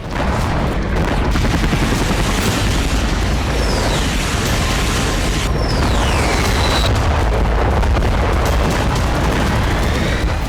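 Aerial bombardment in the war in Ukraine: loud, dense rumbling blasts and booms pile up continuously, with whistling descending tones cutting through the roar.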